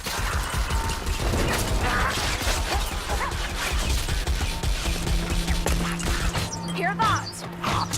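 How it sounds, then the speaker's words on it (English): A rattling gun fires in a video game amid dense, loud combat noise, continuous mechanical clatter under shouted voices and effects for the whole stretch. "A rattling gun is close."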